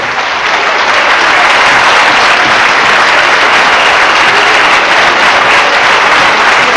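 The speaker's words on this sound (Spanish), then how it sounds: "Fuerte el aplauso." Sustained, loud audience applause at a tango tribute honoring a dancer, a dense continuous wash of clapping from a large crowd lasting throughout.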